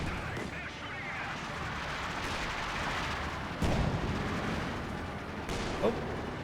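Gunfire and artillery from a Company of Heroes battle go off as a few distant booms and shots over a constant low battlefield rumble, with a caster talking over it.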